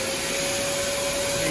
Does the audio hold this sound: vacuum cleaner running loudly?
yes